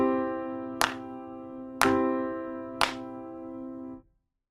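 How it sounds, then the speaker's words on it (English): Piano sounding three struck chords about a second apart, each held and ringing before a final cutoff, played alone and close in a beginner timing exercise. "let's play the half note chords again on 3 and 4 as well"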